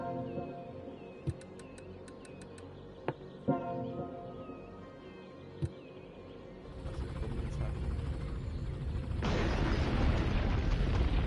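Massive bombings in a nuclear-strike war simulation come as a few sharp, scattered booms and pops over a low rumble, then swell into a dense, roaring wall of blasts toward the end.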